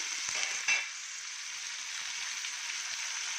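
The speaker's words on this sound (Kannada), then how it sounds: "ಇದೆಲ್ಲ ಸ್ವಲ್ಪ ಎಣ್ಣೆಯಲ್ಲಿ ಬಾಡಿಸ್ಬೇಕು ಚೆನ್ನಾಗಿ" Eggplant pieces sautéing in oil in a pan with onion and tomato: a continuous bright sizzle and crackle, fairly close, with a brief stirring scrape near the start and no talking.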